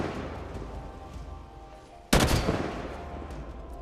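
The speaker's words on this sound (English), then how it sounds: "here's the sound of Halo 5's battle rifle" Battle rifle from the Halo 5 video game: after a quieter stretch of sound, one loud, sharp burst of gunfire lands partway through and trails off into a decaying tail.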